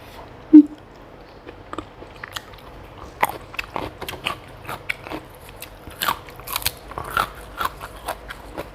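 Crunchy grilled intestine is bitten and chewed close to the microphone, with a sharp bite at the start and then a run of wet crunches and chewing sounds that grow busier near the end.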